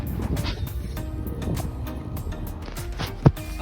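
A budget Kastking baitcasting fishing reel makes an unusual noise: a faint, rough whirring buzz during a cast, irregular and close, ending with a brief sharp click.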